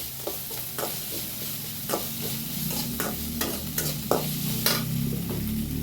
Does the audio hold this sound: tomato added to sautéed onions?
yes